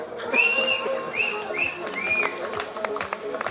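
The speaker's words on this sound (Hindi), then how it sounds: "जोरदार तालियां और जोरदार सीटियां आबिद के लिए" Several bright, rising whistles ring out over the noisy chatter of a fashion week finale audience, with scattered claps and cheers in the background.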